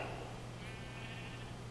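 A sheep in Minecraft gives a drawn-out, wavering bleat, moderately loud over a steady low hum, with no one talking.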